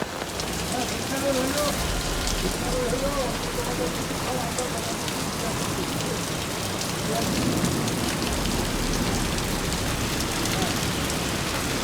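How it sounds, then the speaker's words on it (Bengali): Heavy rain pours down hard around someone sheltering under an umbrella near a main road, a dense continuous roar of drops drumming on surfaces, loud and close throughout. "প্রচণ্ড পরিমাণে বৃষ্টি নামছে, ছাতা দিয়েও মানতেছে না, পুরো ভিজে যাইতেছে।"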